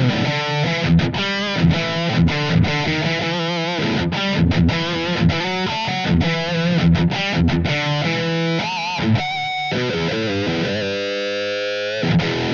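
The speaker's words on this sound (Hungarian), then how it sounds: "Super crunch, ami így szól." Guitar played through a Blackstar ID:Core V3 amp on the super crunch distortion setting, thick driven chords and riffs chugging steadily, ending with a ringing, slowly decaying chord.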